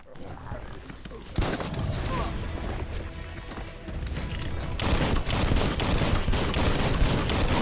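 Rapid, crackling gunfire from Biomutant, a dense fusillade of shots that begins abruptly and keeps up in bursts, fairly close and loud, with a voice speaking over parts of it.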